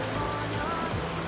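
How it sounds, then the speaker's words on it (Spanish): Steady rain falling in a snowy village in Japan, a continuous close hiss with no break and no voices. "Pero está lloviendo, lo cual no es muy bueno."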